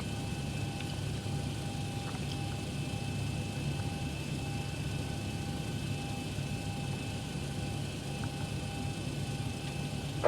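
Zibo Mod airliner in X-Plane 12 taxiing toward the holding point of runway 33 on a simulated Bogota to Cartagena flight, a steady broadband engine whine and rumble with faint tonal hums, continuous and moderately loud with no talk.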